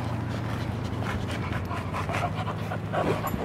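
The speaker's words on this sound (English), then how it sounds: "Just one happy dog right there." An American bulldog pants steadily and rapidly at close range on a beach, with rhythmic breathy huffs continuing throughout and no speech.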